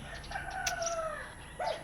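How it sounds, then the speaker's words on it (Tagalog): A rooster crows once at a moderate distance, a long drawn-out call followed by a short cluck, over faint outdoor background. "May mga manok kasi diyan."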